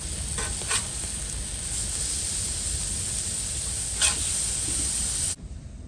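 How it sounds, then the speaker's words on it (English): Sirloin steaks sizzle loudly on a griddle inside an ice-fishing shelter on frozen Lake Pepin, a steady close hiss with a few brief spattering pops before the sound cuts off abruptly near the end. "we got some nice quick trip sirloin steaks on the griddle here"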